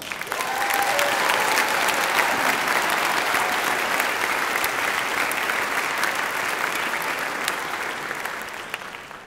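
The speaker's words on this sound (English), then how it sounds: "So let's give them a round of applause" Sustained audience applause at a high school honor choir concert, a broad, even roar of many clapping hands that swells early and slowly fades toward the end, with no speech.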